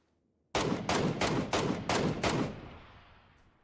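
Sniper rifle gunfire in PUBG: six loud, sharp shots fired in a quick, evenly spaced sequence, then a fading echo tail.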